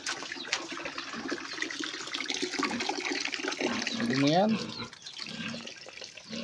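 Water pours into a container to mix pigpen disinfectant, a steady splashing rush close by under continuous talk.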